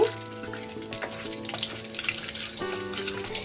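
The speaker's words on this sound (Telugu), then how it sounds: "బాండి కాస్త హీట్ అయిన తర్వాత ఇందులో కూర ఆవాలు ఒక టీ స్పూన్ మెంతులు ఇవి కొంచెం ఫ్రై అవ్వాలి" Mustard seeds and fenugreek seeds frying in a heated pan for Nellore fish curry, a loud, close, steady sizzle with light crackling and stirring throughout, no voices.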